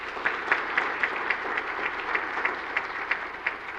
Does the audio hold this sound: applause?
yes